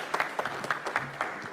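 Scattered, fairly faint audience applause at a talk on fair incomes in the cocoa sector, with uneven claps coming in loose bursts rather than a full ovation.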